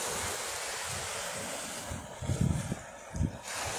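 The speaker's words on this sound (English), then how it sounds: "or sit here, and look at the waves for a few minutes" Sea waves wash against a rocky shore in a steady broad roar, with wind buffeting the microphone and a couple of heavier surges swelling briefly toward the end.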